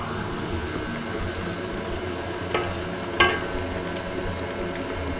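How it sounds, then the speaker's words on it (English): A stand mixer runs steadily, beating a cooled dairy-free choux panade as whisked eggs are added, a constant whirring hum with two brief clinks partway through. "let's get this cool panade into the mixer"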